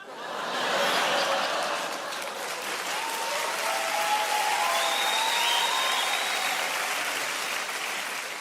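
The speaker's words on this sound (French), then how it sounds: "Franchement, vu les applaudissements" Sustained applause from a comedy show audience swells quickly and holds at a steady level for several seconds, with scattered laughter and faint voices mixed in.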